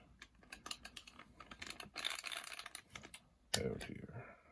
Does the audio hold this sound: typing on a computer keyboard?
yes